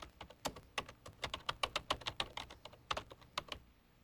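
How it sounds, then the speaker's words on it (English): Fingers typing on a home computer keyboard, a quick run of crisp, close key clicks in an uneven rhythm with a brief pause near the end, no talking over it. "Well, I'm going to type Orlando International Airport."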